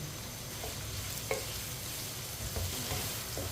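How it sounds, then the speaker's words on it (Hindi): Chopped tinda (apple gourd) fries in a pan, a continuous low sizzle with occasional faint stirring clicks, steady and close, with no voices. "टिंडों को 2-3 मिनट के लिए मैंने फ्राई कर लिया है"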